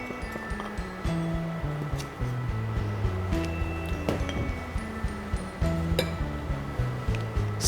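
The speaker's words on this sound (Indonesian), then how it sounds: "kita kocok telur dan gula pasir" Whole eggs and granulated sugar are whisked together in a bowl, giving a close, continuous run of rapid clinking and scraping against the bowl with a faint tonal hum underneath.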